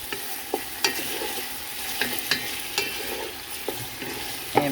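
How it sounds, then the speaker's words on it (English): Chicken pieces searing in a pot while a utensil stirs them around, a constant sizzle broken by sharp scraping clicks against the pot, close up and without speech. "so instead of flipping them over one by one, I'm just going to stir them all around"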